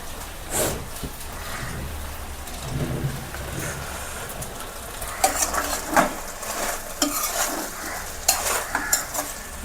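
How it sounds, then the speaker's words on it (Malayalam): A dish is stirred and mixed in a pan, with scraping utensil strokes over a steady low sizzle, growing busier and louder in the second half; no talking. "ഒരു 5 മിനിറ്റ് മിക്സ് ചെയ്താൽ മതി കേട്ടോ."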